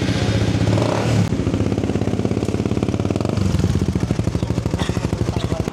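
A Suzuki GSX 150 motorcycle with its silencer refitted runs close by, its engine idling with a steady rapid pulse, then revving up in loud repeated bursts throughout.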